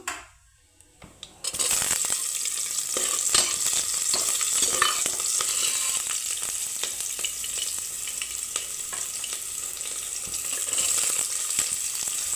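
Onions sautéing in hot oil with fennel seeds, curry leaves and bay leaves for a chicken gravy, a steady close sizzle with scraping stirs, starting after a short quiet moment and running on without talk.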